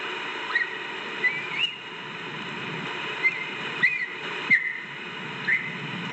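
A mountain lion makes several short, thin whistles, high and slightly rising, in scattered bursts over a steady hissy background.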